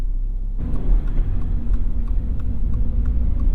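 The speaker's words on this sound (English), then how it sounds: "We're going to drive very economically on the way there." A 2022 Subaru BRZ driven gently on a road toward the highway, heard as a steady low engine and tyre rumble with a constant whir, close and continuous, with no talking.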